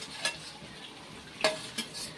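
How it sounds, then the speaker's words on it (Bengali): Pre-fried papaya added to a chicken curry and stirred in the pan, with a few quick spoon scrapes and clinks over a soft sizzle, close and brief. "এবার আমি এর মধ্যে দিয়ে দেবো পেঁপে, আগে থেকে ভেজে রাখা পেঁপে"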